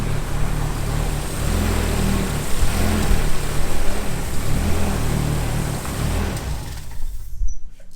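A project car engine runs steadily with a low rumbling idle for several seconds, burning residue off the exhaust, cutting off near the end.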